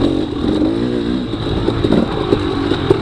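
Enduro dirt bike engine revving hard on a sprint enduro test course at Battle Creek, Michigan, a loud continuous close-up roar with rising and falling pitch under heavy throttle.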